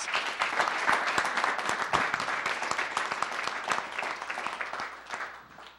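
An audience at the 2013 State of the City address claps for Joe Hinks, a Salisbury code enforcement officer, a steady moderate round of applause that gradually thins and fades out.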